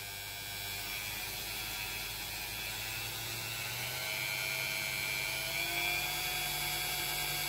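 A magnetically levitated rotor accelerates toward 12,000 rpm, giving off a continuous whine and hum. Rising tonal lines climb gradually over several seconds, alone and at moderate loudness.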